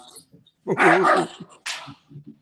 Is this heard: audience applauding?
no